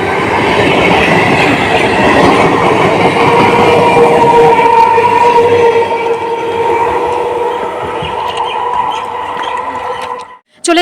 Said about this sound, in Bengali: 18 ট্রেনে যাবো।